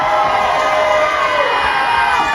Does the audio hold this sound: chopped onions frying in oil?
no